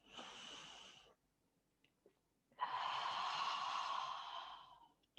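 Loud, deep exhalations during an exercise session, two long breathy bursts with a quiet pause between, the second sustained and strong.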